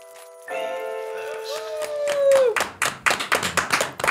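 Hands clapping in a series of sharp, separate claps that grow louder and faster, following a sustained tone that bends downward, with a voice heard earlier.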